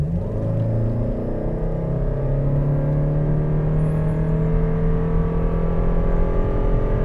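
A 2023 Toyota Crown XLE base model pulls hard under acceleration, its engine and drivetrain rising in a steady, smooth drone with rumbling road noise, close and continuous with no talk.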